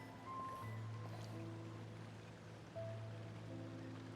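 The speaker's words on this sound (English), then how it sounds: "the sound of the waterfall is quite relaxing" Soft waterfall ambience in the video game Genshin Impact, a faint steady wash of water beneath sustained tonal game music notes, quiet and without talk.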